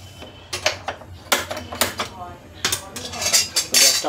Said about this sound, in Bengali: গ্যাসটা অন করে নিয়েছি, কড়াটা আমি বসিয়ে দেবো।